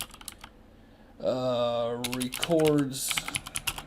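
Computer keyboard typing while PHP code is written, crisp clicks in quick bursts at the start and again near the end, with someone speaking over the middle stretch.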